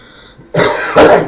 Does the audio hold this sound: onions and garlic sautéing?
no